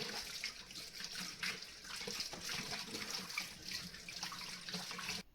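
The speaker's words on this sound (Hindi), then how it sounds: "तो इस तरह से मैं सारी गाजर को धो लूँगी।" Carrots are rinsed under a running tap, a steady close splashing stream with small shifts as they are turned, cutting off abruptly at the end.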